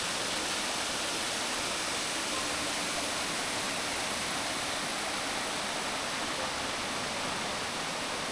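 A running mountain stream on a trek up Agathiyarmalai in the Pothigai hills rushes steadily and loudly, a dense unbroken wash of water close by with no voices.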